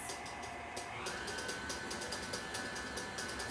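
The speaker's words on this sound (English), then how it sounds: "I'm going to allow for the batter to mix on medium for about 2 minutes." Electric stand mixer churning chocolate chip cookie batter on medium speed, a quiet steady whirring hum with a faint rhythmic ticking from the beaters, close and with no talking.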